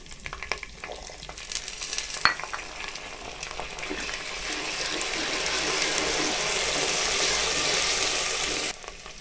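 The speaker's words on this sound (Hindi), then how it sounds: "इस टाइम पे आगे हम इसमें थोड़ा सा पानी शामिल कर देंगे।" Water is poured into garlic ginger paste frying in a pan for an aloo mongray curry. The hiss and sizzle swell loudly and run steadily before cutting off abruptly near the end.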